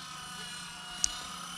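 A Blade 120 S2 fixed-pitch RC helicopter flies with a steady, thin rotor whir at moderate distance, with one brief sharp tick partway through.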